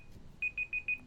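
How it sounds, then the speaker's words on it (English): A kitchen timer goes off with four quick evenly spaced electronic beeps, a clear high-pitched tone over faint room background, close and brief. "Oh, there's the timer."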